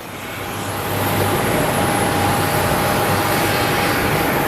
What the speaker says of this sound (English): So it's going to be a little Embraer like this bad boy here.